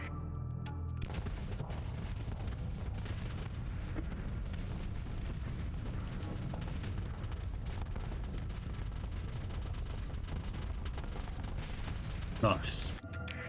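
Heavy barrage of missiles launched from an enemy ship in the space combat game Starsector, a steady rumbling stream of booms and blasts with a sharp burst near the end, a voice talking over it.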